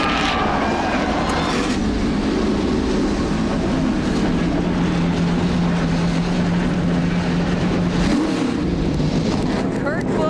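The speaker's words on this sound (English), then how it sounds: "Gentlemen, start your engines!" NASCAR stock car engines at Daytona rumble together in a loud, steady low roar that fills the whole stretch, with a voice talking over it.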